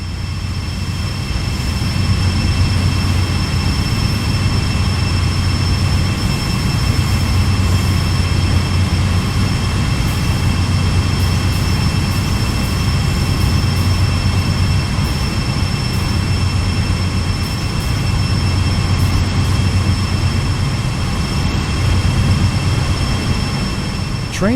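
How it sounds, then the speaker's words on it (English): A GE AC4400CW diesel locomotive on the Sand Patch Grade in the Train Sim World 2 game runs with a steady, loud engine drone and a low rumble, with constant high tonal whines over it throughout. "You are currently riding an AC 4400 CW locomotive."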